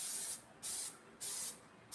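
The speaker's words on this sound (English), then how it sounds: "And then we got our cooking spray. I'll spray that right now." Cooking spray hisses into a baking pan for banana bread in four short, even bursts, close and crisp with brief quiet gaps between them.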